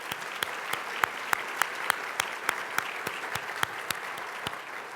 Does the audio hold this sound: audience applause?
yes